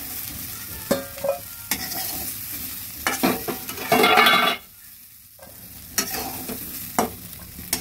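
Yardlong beans and potatoes fry in a pan, with bursts of sizzling and spatula scrapes coming in irregular clusters, a louder sizzle midway, then a brief quiet stretch before more stirring.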